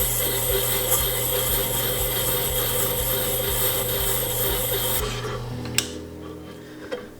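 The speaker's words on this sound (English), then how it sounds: "Now we'll go up to the next wheel. This is 600." A hand graver is held to a 600-grit wheel on a GRS Power Hone, giving a steady motor whir with a rhythmic ticking pulse; the motor stops partway through, leaving a couple of faint clicks.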